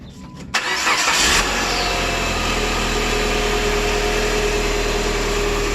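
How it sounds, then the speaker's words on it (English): A Chrysler PT Cruiser engine fitted with a turbo blow-off plate cranks briefly and catches, then settles into a steady, loud idle close by. "So we're gonna do a quick startup."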